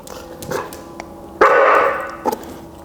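A dog being trained to hunt morel mushrooms barks on command, a few yips and one loud, close bark that rings briefly before tapering, with quieter sounds between them.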